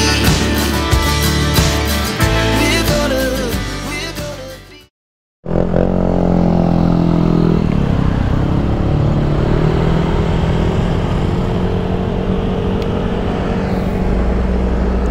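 A motorcycle rides toward Mount Olis in Paway, Atok, Benguet, engine droning loud and close with wind rush, cutting out briefly before resuming as a steady roar.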